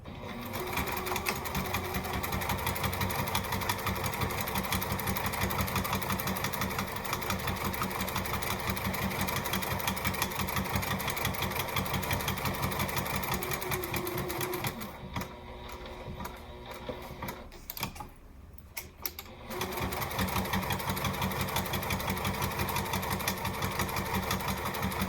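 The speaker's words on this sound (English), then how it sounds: "just top stitch along this scallop at the top of the pocket" A sewing machine top stitches along the scalloped top of a tote bag pocket, a steady rapid mechanical whir with a brief pause and stutter midway before running again, alone without talk.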